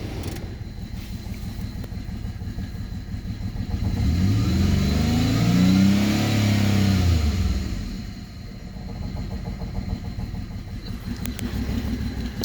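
A Pontiac G6 engine with a random cylinder misfire runs steadily, its rough rumble swelling into a louder rev for a few seconds midway before settling back to idle, with no one talking.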